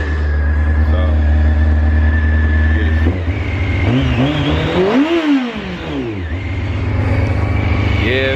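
A small motorcycle, unridden for about two weeks, idles loudly close by, then revs up and down in several rising and falling sweeps before settling back to a rough idle.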